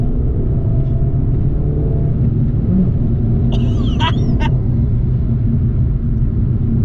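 A Fiat 500 Abarth 595 accelerating hard from 0 to 60, heard from inside as a loud, steady low engine and road rumble throughout, with a few brief high squeaks midway.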